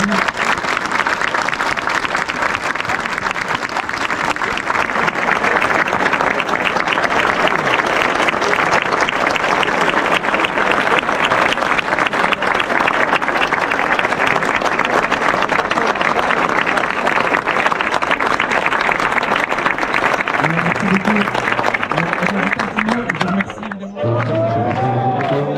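Sustained, dense applause from a large audience at the Chaumontoise 2022 race, loud and steady for over twenty seconds with some cheering mixed in, before it cuts out and a voice starts speaking.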